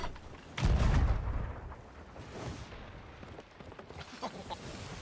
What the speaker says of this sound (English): shoot it with the cannons